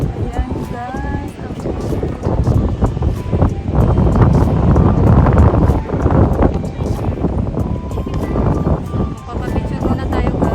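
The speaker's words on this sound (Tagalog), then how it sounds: "Medyo malakas yung hangin." Strong wind gusts roar and buffet the microphone at a high nature viewpoint in Miyazaki, Japan, a dense, loud, steady rush that swells in the middle, with a voice talking over it.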